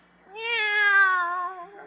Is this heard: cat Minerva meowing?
yes